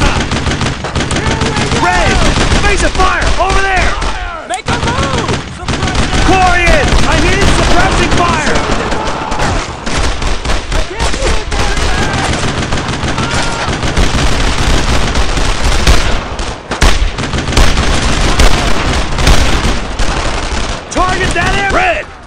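World War II gunfire in the Brothers in Arms: Road to Hill 30 video game, with dense rifle and machine-gun bursts rattling almost nonstop and soldiers shouting orders over the battle.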